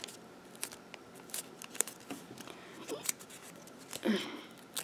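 Origami paper being squash folded while making a bunny: soft crinkles, taps and rustles in irregular bursts, close and faint, with a slightly longer crinkling swish near the end.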